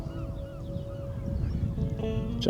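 Seabirds honking and calling at a hovering drone over the seafront at Herne Bay, several overlapping cries rising and falling above a steady wind and rotor hum, with no talking.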